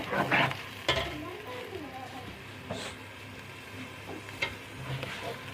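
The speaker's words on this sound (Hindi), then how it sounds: "हम अदरक लहसुन और हरी मिर्चों का पेस्ट डालेंगे।" Ginger, garlic and green chili paste frying with browned onions in a pot for pea and potato pulao, with soft sizzling, stirring scrapes and a few sharp clanks of a spoon against the pot.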